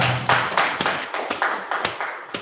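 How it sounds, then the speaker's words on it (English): Sparse clapping at a Lagos youth development institute event: about eight or nine sharp, separate hand claps in an uneven rhythm, fairly close and moderately loud, with no talk over them. "Everybody clap."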